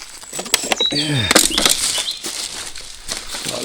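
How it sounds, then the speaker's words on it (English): Birds outdoors in South Shields give chirps and calls mixed with a burst of flapping wings, close and fairly loud, while a person talks nearby. "Oh, listen to those birds."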